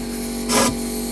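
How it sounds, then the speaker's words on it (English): A short hissing burst of rust-protection spray from an airline inside a Smart ForTwo's rear cavities, close and loud, lasting a fraction of a second over a steady low hum. "we are treating and spraying inside the rear cavities"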